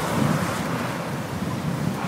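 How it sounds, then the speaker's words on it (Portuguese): Sea waves wash steadily along the shore, a broad continuous surf roar mixed with gusty wind buffeting the microphone, close and fairly loud with no voices. "Olha o mar!"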